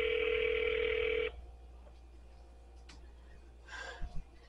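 A steady telephone call tone sounds for just over a second and then stops, followed by quiet background with a few faint rustles and breaths.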